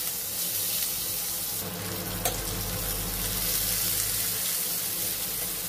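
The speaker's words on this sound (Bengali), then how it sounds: "পেঁয়াজ নেড়ে নিচ্ছি।" Chopped onion frying in oil with black cumin, stirred in a pan: a dense, steady hiss of sizzling oil up close, with a brief scrape of stirring partway through.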